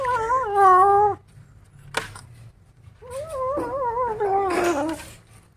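Disturbed while eating, kittens let out loud, drawn-out wavering growls and yowls close by, with a sharp click between bursts and a second longer growl that rises toward the end.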